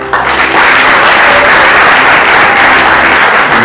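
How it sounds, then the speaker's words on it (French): Enthusiastic crowd applause after a slam poetry performance on forest rehabilitation, loud and dense clapping starting abruptly and holding steady throughout. "Applaudissements."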